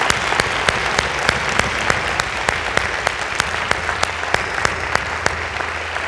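A school community audience claps steadily at a morning gathering, a dense, continuous wash of applause with sharp individual claps standing out, sustained throughout.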